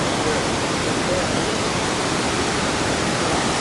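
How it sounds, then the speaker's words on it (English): Linville Falls, a waterfall at the northern end of Linville Gorge in North Carolina, roars as a steady, loud, dense broadband rush of falling water, continuous and unbroken throughout with no voices over it. "This is the waterfall up at the northern end of the Linville Gorge."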